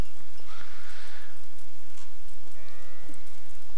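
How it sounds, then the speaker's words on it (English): Sheep bleat in a medieval video game world, a few wavering calls over a loud, constant ambient backdrop, with no voices. "Hey, I hear sheep."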